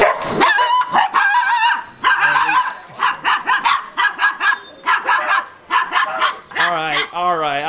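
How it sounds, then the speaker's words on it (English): Several small dogs bark and yip in quick bursts close by on a busy market street in Agra, India, with people talking over and between the barks. "These are cute little dogs."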